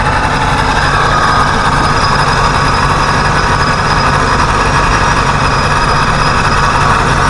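A car engine fitted with an evac pump idles in a steady, loud, unbroken hum, with no voices.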